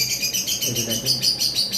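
Pet lovebirds chirp and tweet in quick, overlapping high calls, fairly close and continuous over a brief moment.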